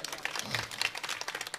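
Audience at a religious discourse clapping: a brief burst of fairly dense applause, moderately near, with no talk over it.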